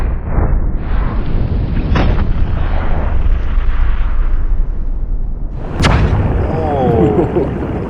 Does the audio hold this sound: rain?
no